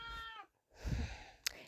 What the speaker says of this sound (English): if you can hear that, it is because my cat is in my room right now.